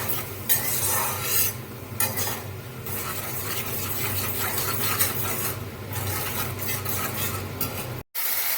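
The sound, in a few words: stirring and sautéing spices in a pan for chana dal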